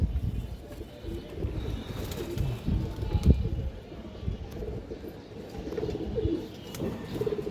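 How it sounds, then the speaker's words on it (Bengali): A big, soft-bodied female pigeon with a black tail, giving low soft coos amid quiet rustling and scattered sounds, with no clear talk. "এটা মাদি কবুতর কিন্তু বিগ নরম সাইজের size।"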